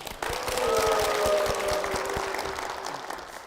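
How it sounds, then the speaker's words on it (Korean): Church congregation applauding to welcome a deacon at a Methodist church in Cheorwon, a loud burst of clapping that starts abruptly and fades slowly over a few seconds, with a sustained tone underneath. "박수로 모시겠습니다"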